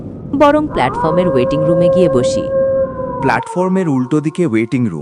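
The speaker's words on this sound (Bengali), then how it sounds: "শুধু সেই নিস্তব্ধতা ভেদ করে শোনা যাচ্ছিল শেয়ালের ডাক।" A jackal howls in a long, rising and wavering cry near an empty station at night, loud over a narrator's voice that continues afterward.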